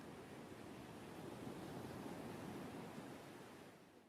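Ocean surf ambience from a video game: a steady, soft wash of waves rolling without a break, faint and even throughout.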